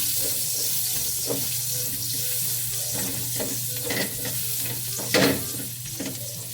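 Garlic sautéing in oil for a fish stew in coconut milk, a steady close sizzle over a low hum with intermittent spatula stirs and one louder clatter near the end.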